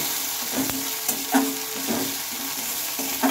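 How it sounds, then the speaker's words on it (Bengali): Chopped tomato frying with onions in a pan while being stirred, a steady low sizzle broken by repeated scraping strokes of the spoon, close and fairly quiet. "এখন দিয়ে নেব একটা টমেটো কুচি। তো টমেটো কুচিটাও আমি দিয়ে নিলাম আর টমেটো কুচিটাও একটু ভালোভাবে নেড়ে চেড়ে নেব।"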